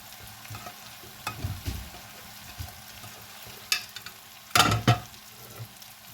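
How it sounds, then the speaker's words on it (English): Onions and vegetables frying in a soup pot give a low steady sizzle, broken by a few scraping stirs and one louder clatter of a spoon or lid near the end, with no one speaking. "Now let's add our onions."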